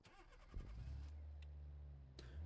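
A 1950s-style car engine cranks and catches, then settles into a steady low idle hum, close and moderately loud, with no voices.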